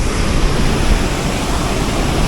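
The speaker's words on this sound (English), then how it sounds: "And here's the waterfall." A waterfall in Baños, Ecuador, gives a steady, loud, broadband roar of rushing, crashing water that stays unbroken from start to finish, with no voices over it.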